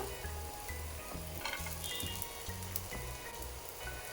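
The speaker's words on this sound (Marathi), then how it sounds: "कांदा आणि खोबरं हे बघा छान असं भाजलं जातं" Chopped onion and dried coconut roast in a hot pan with a steady, dense crackling sizzle that runs throughout, stirred now and then, close and moderately quiet with no talking.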